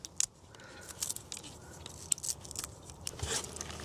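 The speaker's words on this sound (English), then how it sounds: "Let's see if we can get it open. We'll peel the shell off and then we'll break the two halves apart." Brittle shell being peeled from a nut blackened in a carbonizer, heard as close, quiet crackles, scrapes and small snaps scattered irregularly with no speech.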